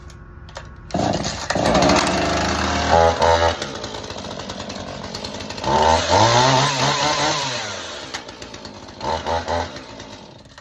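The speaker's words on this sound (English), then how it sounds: "So that pop means it's ready to go. I'm gonna take the choke off." A chainsaw fires up and runs close and loud, its engine roaring steadily and surging through several revs before settling.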